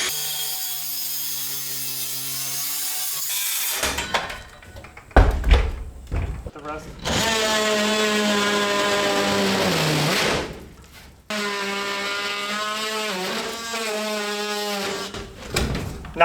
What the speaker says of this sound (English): I'm going to go ahead and get this stud cut out.